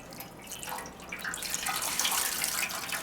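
Steady rush of solvent spraying from a parts washer onto motorcycle bearings from a 1988 Harley FXR, a continuous broadband hiss that swells slightly louder partway through, with no talking.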